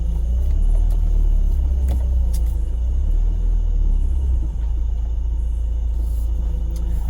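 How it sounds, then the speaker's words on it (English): Car pulling out of neighborhood grass onto a driveway: a heavy, close engine rumble with low idle throb and slight revving, continuous throughout with no talk. "me getting my car out of the grass"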